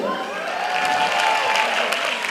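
Steady applause from a concert audience during a live Tamil film-song performance by a music group, a dense continuous clatter of clapping hands that holds evenly for the whole stretch without pause.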